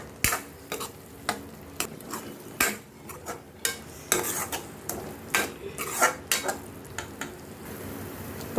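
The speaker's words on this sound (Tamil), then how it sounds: "நல்லா வதக்கி கொடுக்கலாம்." A paste of ground curry leaves and turkey berries is sautéed in a pan, a spoon scraping and knocking against the metal in quick irregular clacks over a faint sizzle, with no talking.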